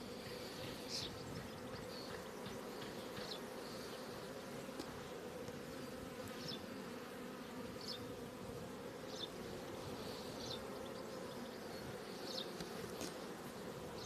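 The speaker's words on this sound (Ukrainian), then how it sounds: "Так, бджоли багато." A dense, steady buzz of a large honey bee swarm hums continuously, with individual bees occasionally zipping past more sharply near the microphone.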